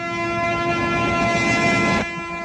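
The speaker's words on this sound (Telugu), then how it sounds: "ట్రైన్ స్టార్ట్ అయింది" A loud, sustained train horn blares over rumbling railway noise as the Godavari Express starts to move, then cuts off abruptly near the end, leaving the low rolling of the train.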